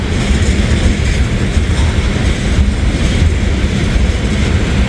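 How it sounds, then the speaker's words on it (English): A train rumbles past at a railroad diamond crossing in a small Indiana town, steady loud wheel-and-rail noise with a low roar that never lets up. "I'll show you guys once this train passes."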